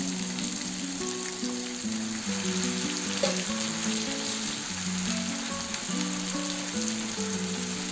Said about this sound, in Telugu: ఆయిల్లో వేసుకొని బాగా ఫ్రై చేసుకోవాలి